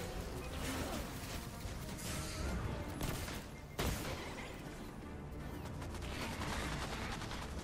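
Dense, rapid gunfire in the Destiny video game crackles almost without a break, with a few louder bursts along the way, and a voice is faintly present beneath the shooting.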